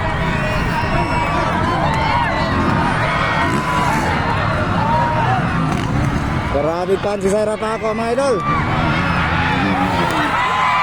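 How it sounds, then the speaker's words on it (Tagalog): Spectators at a ladies' motocross heat in Banga, South Cotabato, shouting and cheering for a lady rider, a loud dense roar of many voices with rising whoops, while a commentator talks over the crowd. "Sigawan dito sa mga South Cotabato para kay Zaira Paco."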